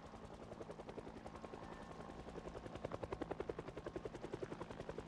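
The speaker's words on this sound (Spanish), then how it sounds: "Los eventos de helicópteros en esta partida son aleatorios." A helicopter flies overhead in the zombie survival game Project Zomboid, its rotor thumping in a steady, fast rhythm that grows slightly louder midway, fairly faint and heard alone.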